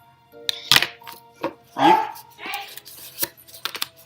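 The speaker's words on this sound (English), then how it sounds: "Sorry about the dogs in the background." Scattered dog barks and yips sound at irregular intervals, mixed with thumps and clatter nearby.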